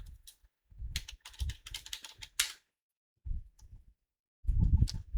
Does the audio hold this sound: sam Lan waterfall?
no